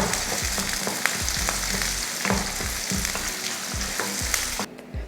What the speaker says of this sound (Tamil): அடுத்து ஒரு பெரிய வெங்காயம், வரமிளகாய் 2, பச்சை மிளகாய் ஒரு 3, ரெண்டுமே சேர்த்து போட்டுக்கிட்டாச்சு. சேர்த்து இதை வதக்கிடலாம்